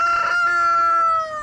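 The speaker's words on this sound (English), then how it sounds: "Chickens can jump right out." A rooster crows loudly and close by on an off-grid homestead in freezing winter, one sustained cock-a-doodle-doo call with no talk over it.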